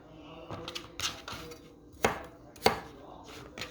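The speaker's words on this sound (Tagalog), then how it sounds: "So, slice natin into cubes, mga ganyan lang." A knife cuts chicken or pork meat into cubes on a board, giving a series of sharp, uneven chops and taps close by, with two louder strikes in the middle.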